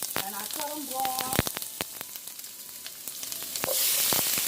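Raw chopped onion hits hot olive oil in a pan for shrimp fried rice, starting a bright, crackling sizzle with sharp pops that swells into a loud, steady hiss, with a few faint tonal chirps early on.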